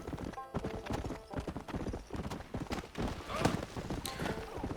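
In the video game Red Dead Redemption, a horse's hooves beat out a quick, regular clip-clop at close range, with an occasional whinny and a voice talking over the rhythmic trotting.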